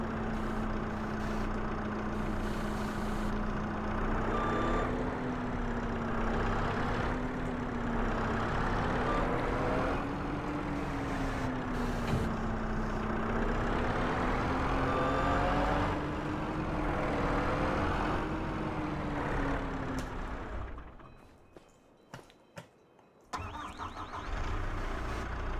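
A skid steer's engine in Farming Simulator 25 drones steadily at medium pitch for about twenty seconds, rising and falling slightly with load. It then cuts out briefly with a few clunks before running again.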